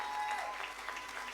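A church congregation applauding, a steady, soft wash of clapping hands that holds evenly for a brief moment with no clear pauses.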